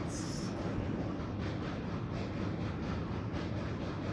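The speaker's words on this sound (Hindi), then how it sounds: "जब मैं वीडियो बना रहा था तो ट्रेन जा रही थी और अभी भी ट्रेन जा रही है" Train passing near the dry Parvati river and its bridge: a faint, continuous rumbling roar with soft rhythmic clatter heard from a distance, steady throughout.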